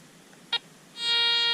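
A short click, then a loud, steady electronic tone from a Garrett Ace 400i metal detector kicks in and holds as it sounds over a target.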